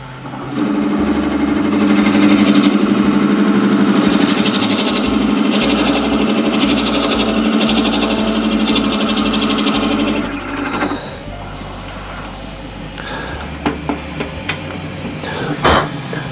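A wood lathe spins up and runs while turning a timber and acrylic shaving brush blank, a loud steady mechanical whir with rattling for about ten seconds, then winding down to quieter knocks and clicks.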